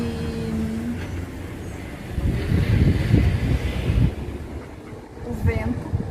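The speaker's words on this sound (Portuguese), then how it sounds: "o vento que passou agora, que tá batendo agora" Wind gusts buffeting a microphone outdoors beside a street, with low rumbling surges that build in the middle and again near the end, mixed with distant traffic noise and no clear talking.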